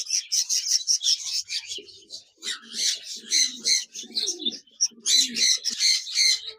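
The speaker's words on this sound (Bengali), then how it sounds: "এখানে দেখতে পাচ্ছেন এক জোড়া ক্লাসিক বাজরিকার রয়েছে রানিং চেয়ার" A pair of classic budgerigars chirps and twitters in quick, busy bursts close by, with brief soft lower calls between.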